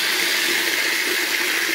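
Water draining and trickling from a homemade copper water pump circuit as its tap is opened, a steady hiss of flowing water held close and fairly loud without pause.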